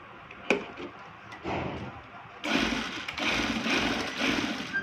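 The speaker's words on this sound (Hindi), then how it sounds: "दो दफ़ा हम लोग मशीन को घुमा लेंगे ताकि हमारी सिलाई पक्की हो जाए" A sewing machine stitching a baby's panel frock runs in short bursts, faint at first and then a steadier whirring run in the second half, with light clicks of handling.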